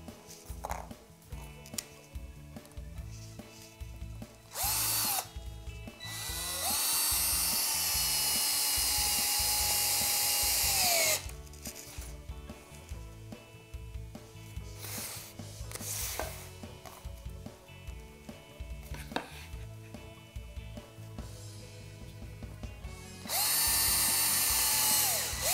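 A power drill drives Spax screws, one fully threaded and one partially threaded, into wood in several loud bursts of motor whine with sustained runs and pauses between them, close up.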